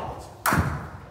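A cricket bat strikes a full delivery during T20 batting practice, giving a single solid thud against a quiet outdoor background.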